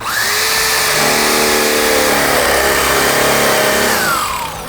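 A loud, steady whine of a power drill boring through wood with a 1-inch paddle bit, rising and holding at high speed for several seconds before winding down.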